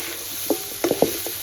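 Mutton being stirred with coriander powder and mutton masala in a pan for a Bihari-style curry, a few soft scraping and clacking strokes with a light sizzle underneath, close and fairly quiet.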